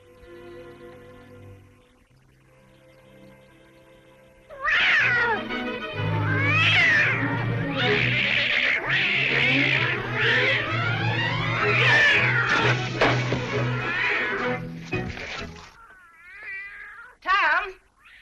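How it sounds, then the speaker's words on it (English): A cat yowls and caterwauls loudly and insistently in a 1938 Tom Sawyer film scene, with wavering drawn-out cries over a noisy, busy background and music, after a stretch of quieter dialogue-level sound. "What on earth ails that cat?"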